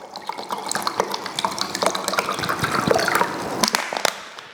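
Water pours steadily from a graduated jug into a water and alcohol mixture for steam-distilling gin, a continuous splashing gush that stays fairly loud and close throughout, with no talk.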